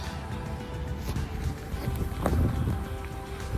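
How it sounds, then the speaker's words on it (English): Wind gusts through an urban public park, a steady broadband rumble buffeting the microphone up close, swelling briefly partway through. "I'm going to hide from the wind."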